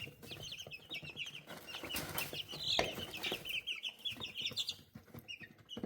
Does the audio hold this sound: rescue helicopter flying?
no